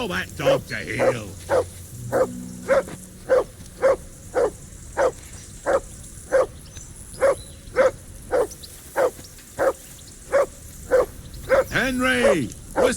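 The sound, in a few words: dog barking, from the video game Kingdom Come Deliverance II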